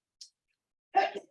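A single short, sharp sneeze in a quiet school board meeting room, preceded by a faint brief breath and followed by silence.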